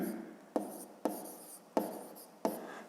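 Pen strokes writing an answer on paper during a fifth-grade maths lesson, four distinct bursts of close scratching, each starting sharply and trailing off, with no talk over them.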